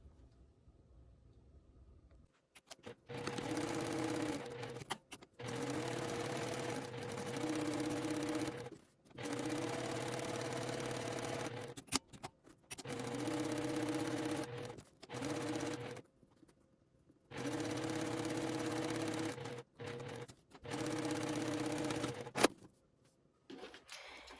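Sewing machine stitching a fabric needle book, running in several steady bursts of rapid whirring, separated by short pauses.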